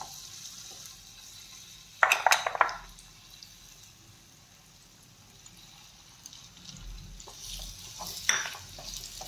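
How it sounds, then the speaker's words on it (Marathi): Dates frying in ghee give a soft, low sizzle, broken by two brief bursts of stirring or spoon clatter, one near the start and one near the end, close by and with no talking. "त्यामध्ये खजूर छान असे तळून घेऊयात"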